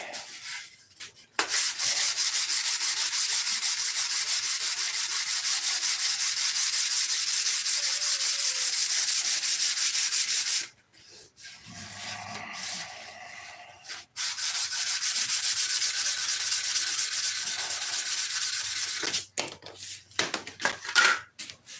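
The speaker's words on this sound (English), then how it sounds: "So there's gonna be a lot of sanding." Steady, loud abrasive rubbing from sanding an airplane's finish, long continuous strokes broken by a short pause and quieter scuffing before sanding resumes, with no talk.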